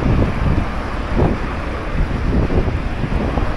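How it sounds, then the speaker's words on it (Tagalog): Steady wind gusts buffet the microphone in an open seaside setting on the Corniche in Doha, Qatar, with a broad rushing roar and faint wash of water beneath. "simoy ng hangin na may dagat."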